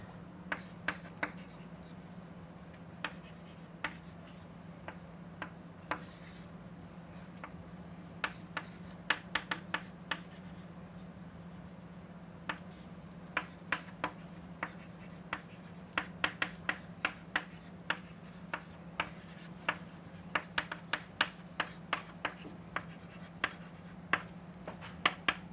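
Pen strokes and taps while writing equations during a lecture, heard as scattered sharp clicks and scratches at an irregular rhythm over a low steady hum, with no speech.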